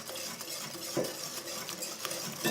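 A spatula stirs hot lemon and honey syrup, just brought to a boil, into a beaten egg and sugar mixture for a lemon meringue tart, giving soft scraping and faint clinks against the bowl, steady and close.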